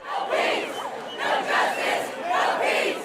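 A crowd of protesting students in California's capital shouts in rhythmic, chant-like bursts, the massed voices swelling and dipping in regular waves at a fairly loud, near distance.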